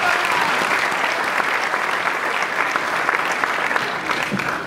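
Audience applause for a university rector at a lecture event, dense and sustained clapping from a large crowd, loud and steady throughout.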